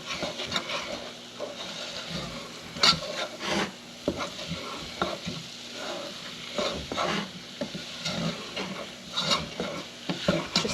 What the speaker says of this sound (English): we're going to stir it all up